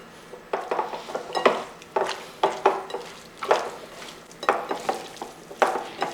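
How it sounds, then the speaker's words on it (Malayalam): Fish being kneaded by hand with spice masala, chili powder and salt in a bowl, giving a run of close, soft wet squelches and light clinks, each lasting about half a second, with no talking. "കൈ കൊണ്ട് തന്നെ ഒന്ന് കുഴച്ചെടുക്കണം."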